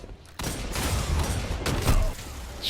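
Luna's Howl hand cannon firing in a video game, a sharp gunshot with a sudden onset followed by rolling sound, then a second punchy shot and brief mechanical clicks.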